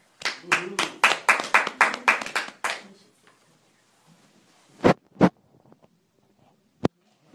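A small audience claps to welcome speakers onto a stage, a short burst of close hand claps lasting about three seconds that fades out, followed by a few isolated knocks and thumps in near silence.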